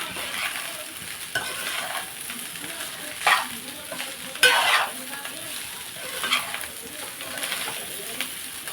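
Ingredients for egg fried rice sizzle loudly in a pan, with stirring scrapes and a few sharper utensil knocks over a constant frying hiss, no talking.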